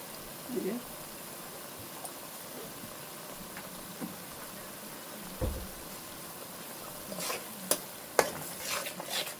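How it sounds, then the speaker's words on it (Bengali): Ground cumin and coriander powder fry in oil in a pan for a carp curry, with a soft, steady sizzle and a few sharp scrapes and clinks of stirring near the end. "মশলাটা আমি একটু ভুনে নেব।"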